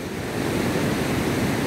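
The flooded Chandrabhaga river in Himachal roars after days of heavy rain, a dense, loud, continuous rush of water with wind-like noise and no voices.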